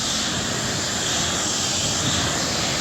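Steady broadband spray of a hose rinsing a ceramic-coated car from the roof downward, a continuous close hiss with no breaks and no voices.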